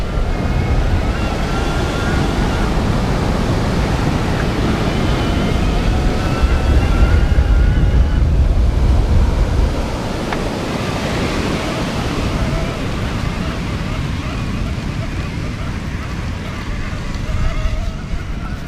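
Surf washes onto a sandy beach while a Bulls Monster E FS e-bike rides along it, giving a continuous, loud roar of waves mixed with wind buffeting the microphone.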